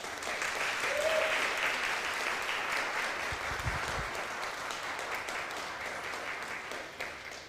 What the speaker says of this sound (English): if we could just give our pastoral visitors a round of applause